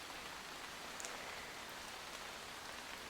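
Light rain falls steadily outside a small cottage, a soft, even hiss with no other sounds.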